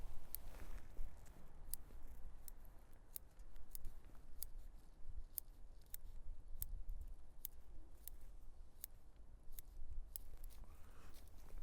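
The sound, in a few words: bonsai scissors cutting leaves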